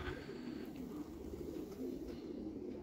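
Pigeons cooing softly at a loft, low repeated burbling coos continuing steadily and fairly close under a constant background hum.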